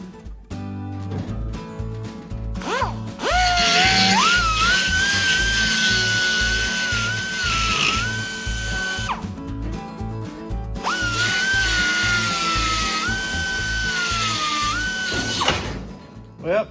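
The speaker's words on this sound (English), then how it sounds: "I got to get in there and grind that off" A power grinder cuts away a rusted rear body crossmember on a 1928 Model A coupe, its loud high whine running steadily for several seconds, dropping briefly, then spinning up again, with no talking over it.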